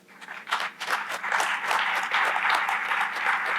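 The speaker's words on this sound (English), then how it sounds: "that does deserve applause." Applause from an audience at a military women's memorial anniversary ceremony, a dense, steady crowd clapping that swells after a brief start and holds loud and unbroken throughout.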